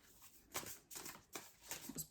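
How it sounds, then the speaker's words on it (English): Tarot cards being shuffled by hand in quick riffling bursts, three or four short rustling flurries close to the microphone with brief pauses between them. "It was poor shuffling on my behalf."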